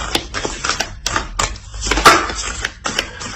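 Oracle cards are shuffled and drawn in a rapid run of crisp, close papery clicks and riffles, with one slightly louder snap near the middle and no voices.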